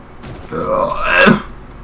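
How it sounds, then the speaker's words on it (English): A single close, loud, throaty burp swells in the middle and ends with a low guttural croak. "It's just how I burp now because I have to burp all the damn time."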